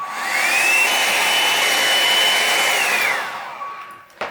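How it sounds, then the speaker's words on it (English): A hair dryer drying paint whirs steadily at high speed for several seconds, then winds down as it is switched off, ending with a small click. "we're going to use a hairdryer to dry the paint."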